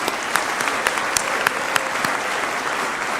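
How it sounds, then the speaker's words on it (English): A convocation audience applauds, with dense, continuous clapping and a few sharper claps standing out across the whole stretch. "congratulations and a huge round of applause,"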